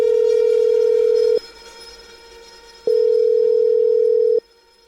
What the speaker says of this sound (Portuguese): Carlos Castro pega no telemóvel e liga para a amiga Wanda Pires.